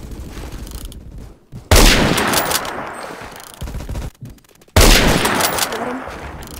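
Loud sniper rifle gunfire in the Roblox game Phantom Forces, two heavy booming shots a few seconds apart, each with a long rumbling tail over steady game background noise.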